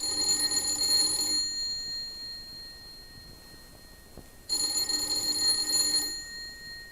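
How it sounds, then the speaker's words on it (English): An apartment doorbell rings in two long bursts of bright, sustained bell tones, separated by a few seconds of quiet room hiss, heard close and fairly loud. "Let's begin this tale with the ringing of a doorbell"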